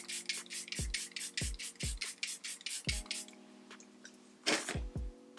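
Several sharp spray bursts from a pump bottle, fired in a quick run of short hisses with a steady hum underneath, then a couple more after a pause.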